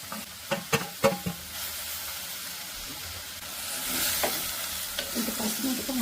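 Spinach frying in oiled pan with potato, a hissing sizzle with a few sharp clatters of stirring at the start, then a steadier bubbling fry that swells midway.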